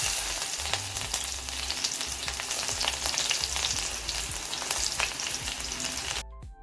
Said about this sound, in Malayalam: ഇവിടെ ആദ്യം തന്നെ കടുക് വറുത്തിട്ടാണ് വെക്കുന്നത്.